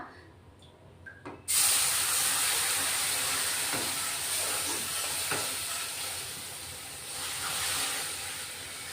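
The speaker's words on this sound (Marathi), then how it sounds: "आता हे दूध गरम केलेलं आहे ते ओतून घेणार आहेत आपण" Warm milk poured into a hot pan for kheer sets off a sudden loud hiss and sizzle that stays steady and close, with faint scraping from stirring.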